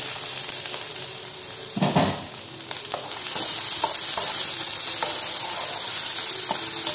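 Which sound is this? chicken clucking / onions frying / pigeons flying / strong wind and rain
onions frying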